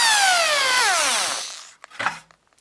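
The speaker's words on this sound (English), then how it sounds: "And then just take the drill, put it over top, and give it a shot." A drill fitted with a punch bit pulls a nail out of fascia, giving a loud whine that falls in pitch and fades after about a second and a half, followed by a short scraping clatter.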